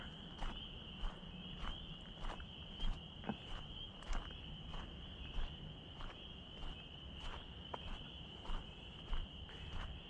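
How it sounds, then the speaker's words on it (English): Frogs call in a regular pulsing chorus over a steady high insect trill, fairly faint and distant on a quiet night. "The frogs are getting louder."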